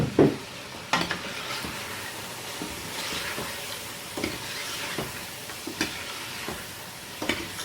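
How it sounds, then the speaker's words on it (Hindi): Mutton with tomatoes and spices fries in oil for a pulao, a steady close sizzle broken by repeated scraping clinks of a spoon stirring the pot. "स्पाइसेस शामिल करके सिर्फ आपने 1 मिनट तक भूनना है।"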